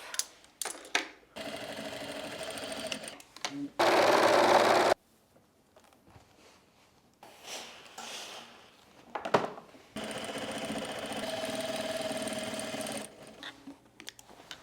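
A sewing machine joins the back seams of a pair of pants in several separate bursts of steady whirring, each run of stitching broken by quiet pauses and small handling noises nearby.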